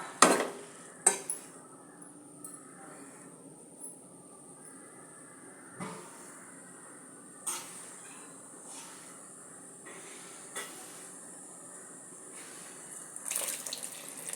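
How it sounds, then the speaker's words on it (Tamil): Water running into a cooking pot of masoor dal and bottle gourd sabzi in a home kitchen, a steady hissing pour with a few sharp knocks and splashes along the way, sounding close, with no speech. "இப்போ தேவையான அளவு தண்ணி வைக்கணும்."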